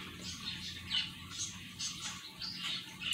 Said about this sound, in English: That's my bird, Leo.